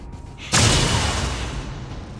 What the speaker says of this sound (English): we're just gonna keep on firing at this thing